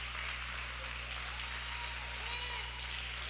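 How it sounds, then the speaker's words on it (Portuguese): Church congregation applauding during a sermon, a faint, diffuse clapping texture over a steady low hum, with a hint of voice and shouting underneath. "Forte esse aplauso."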